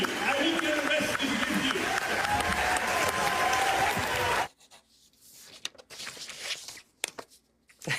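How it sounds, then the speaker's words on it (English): A loud crowd cheers and claps continuously for several seconds, then cuts off abruptly into quieter talk and scattered noise. "And the crowd goes wild."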